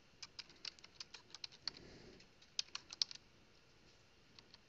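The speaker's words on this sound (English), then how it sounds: "we can type anything we want" Fingers type on a computer keyboard while radio programming software is being set up: quiet, close, irregular keystrokes tap out in a short run with brief pauses.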